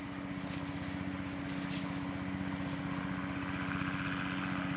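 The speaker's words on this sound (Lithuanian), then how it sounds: "Sraigtasparniai skraido." A steady engine drone with a fast, rhythmic rotor thumping runs throughout as helicopters fly overhead, loud and continuous with no talking.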